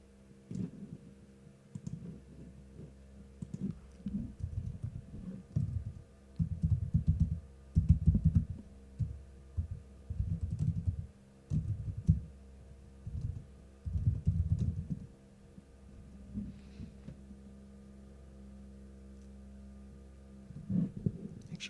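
Fingers type on a computer keyboard in bursts of soft, quick clicks with short pauses between, close to the microphone and fairly quiet, with no voices.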